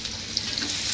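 Dried fish (sukat) frying in a pan with onions, a close, dense crackling sizzle with faint stirring scrapes, continuous and unbroken, with no talk over it.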